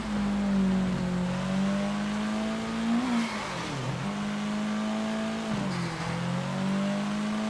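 Car engine in the video game Sleeping Dogs revving and driving steadily, with a loud sustained hum that dips and rises through gear changes and throttle lifts, close and continuous with no talking.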